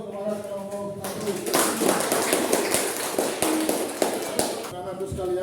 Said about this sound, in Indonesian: kita beri aplaus kepada kelompok 1